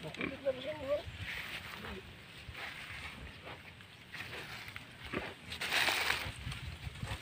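A mother sow grunting soon after giving birth on a farm, low, rough grunts and oinks heard close by, mixed with murmuring voices and breezy background noise.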